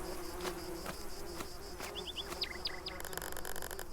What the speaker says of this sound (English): The wasps are crazy today.